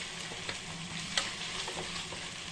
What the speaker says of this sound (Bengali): ভালো করে যতক্ষণ না তেল বেরিয়ে না আসছে ততক্ষণ কষিয়ে নেব।